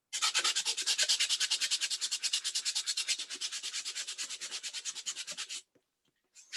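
A purse is sanded by hand during upcycling: a fast, steady run of close, rhythmic scraping strokes for several seconds, then it stops abruptly, with no talking.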